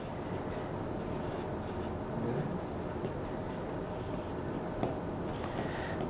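Pencil scratching steadily across paper while drawing a round orange, a continuous close, dry rubbing texture with small strokes and no talking.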